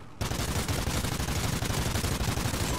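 Rapid automatic gunfire in Call of Duty: Ghosts multiplayer, a loud, continuous burst of closely spaced shots with no talking.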